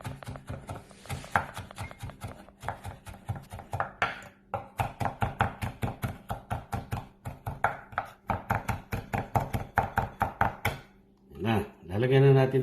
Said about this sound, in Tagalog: Hatiin natin yung bawang para sa sinangag natin.